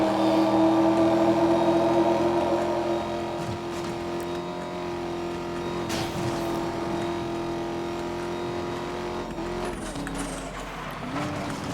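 Engine of a car in Need for Speed: Most Wanted (2012) revs and accelerates loudly throughout, a steady droning tone that drops slightly in pitch after a few seconds, with a brief shift near the end.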